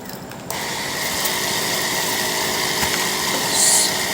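A homemade pressure washer for motorcycles and cars is switched on, and a steady mechanical whir with a light rattling, ratchet-like texture starts abruptly and runs evenly without speech.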